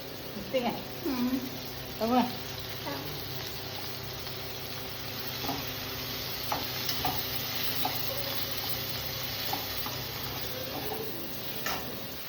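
Cluster beans frying in a pan with turmeric mixed in, a low steady sizzle with soft stirring clicks throughout, a person talking quietly at the start.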